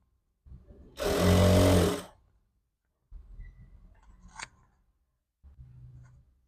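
A sewing machine stitches a piece of a back-open princess-style jacket in a single loud whirring burst of about a second, followed by quieter handling of the fabric and a faint short snip.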